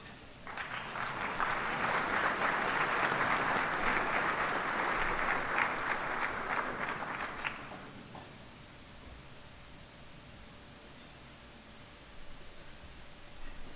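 An audience claps warmly for a student earning a bachelor's degree in civil engineering, a full, steady wash of applause for about seven seconds before tapering off into quiet room tone.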